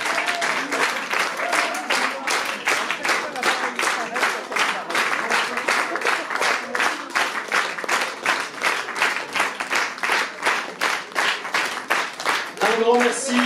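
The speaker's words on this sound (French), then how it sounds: "Allez Benoît, un dernier tour, sous les applaudissements." Audience at a fashion show in Dijon claps in a loose rhythmic beat as a model takes a final lap of the runway, loud and close, steady pulses throughout with a brief voice near the end.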